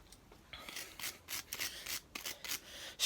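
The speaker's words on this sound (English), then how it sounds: "Let's give it a quick clean with the old wire brush." Wire brush scrubbing a strimmer spark plug in quick rough strokes, a series of close, dry rasping bursts with short pauses between them.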